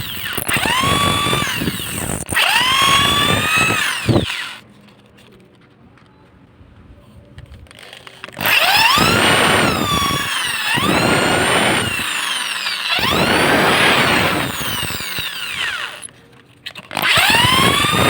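A power drill boring into a foam net float to shape a mini popper lure, whining bursts of rising and falling motor pitch close up, separated by a quieter pause.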